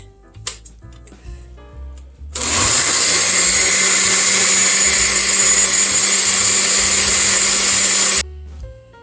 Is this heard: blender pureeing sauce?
yes